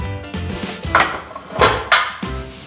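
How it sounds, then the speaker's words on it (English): Einkorn flour dinner roll dough with egg and milk powder being mixed in a bowl: a few clinking, scraping knocks of a utensil against the bowl come at an uneven pace, close and fairly loud. "I'm just going to gently mix this."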